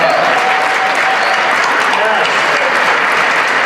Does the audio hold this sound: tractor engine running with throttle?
no